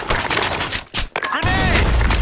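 A grenade blast and bursts of gunfire in a multiplayer shooter match, loud rapid shots with a brief dip before a shouted voice breaks in over the noise.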